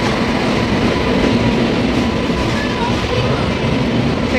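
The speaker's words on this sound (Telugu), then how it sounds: "మా వైజాగ్ ట్రైన్ వచ్చేసింది" A passenger train bound for Visakhapatnam pulling into a railway station, a steady loud rumble of wagons and wheels filling the whole stretch with no clear breaks, faint crowd murmur beneath.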